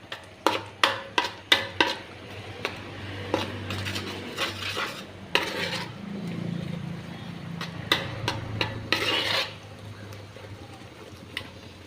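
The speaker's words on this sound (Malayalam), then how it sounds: "ശർക്കര പാനി ചേർത്തതിന് ശേഷം നന്നായിട്ട് ഇളക്കി മിക്സാക്കി കൊടുക്കുക" Jackfruit payasam with jaggery syrup is stirred in a pot, starting with a quick run of sharp spoon knocks against the vessel, then slower scraping strokes over a low background hum.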